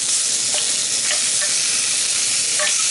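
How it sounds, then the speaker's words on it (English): Lamb bones browning in a pan over a high flame, giving a steady, loud sizzle and fry hiss throughout, with a few faint clinks of stirring. "we're going to brown this up on a high flame with mirepoix"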